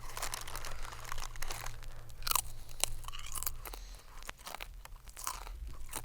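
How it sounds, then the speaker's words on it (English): Onion-flavoured chip snacks crunched and chewed close up, a run of crisp, crackling bites and grinding mastication with brief crinkles, steady and fairly loud with no speech. "They're like onion-based chip things that somehow taste nothing like onions or chips"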